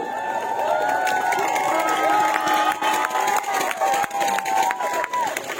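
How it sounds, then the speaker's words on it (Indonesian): A crowd cheers for the home team Margo Rahayu at a final, a continuous loud roar of voices with shouts rising over it and an amplified voice running through. "Kita beri aplaus yang pertama untuk tuan rumah Margo Rahayu."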